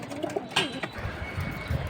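Low, throaty cooing of high-flying pigeons close by, a few soft rolling coos over a steady background hum.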